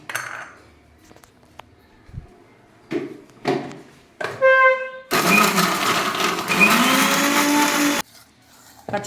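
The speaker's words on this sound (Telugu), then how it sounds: "గ్రైండ్ చేసుకుందాం." A mixer grinder runs in bursts, grinding a coarse bottle gourd vada batter with salt: short pulses, then a loud steady whir of about three seconds, close up and with no talking.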